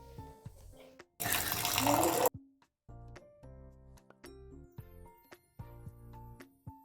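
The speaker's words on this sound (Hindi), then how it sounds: "दही आपको कौन से बोल में डालती हूँ वो बोल लेकर आपको दूध को इस तरह से डाल दीजिए" Hot milk poured into a bowl for setting curd, a brief loud splashing stream lasting about a second amid scattered clinks and soft background tones.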